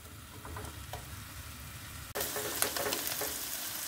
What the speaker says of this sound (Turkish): Zeytinyağında soğanlarım şekerini vermelerini bekleyeceğim, karamelize olmalarını